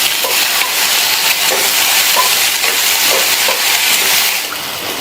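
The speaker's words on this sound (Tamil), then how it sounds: "வெண்டைக்காய் வதங்கிட்டு இருக்கும்போது இன்னொரு அரை டீஸ்பூன் மட்டும் எண்ணெய் சேர்த்து வதக்கிக்கலாம்" Okra sautés in oil in a pan over a low flame, giving a steady, close sizzling hiss with soft crackles throughout, easing slightly at the end, with no voices.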